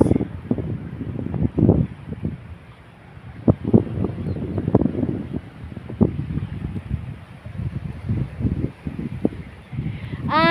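Strong gusting wind at the seashore buffets the microphone in heavy rumbling bursts, rising and falling, with an open outdoor feel.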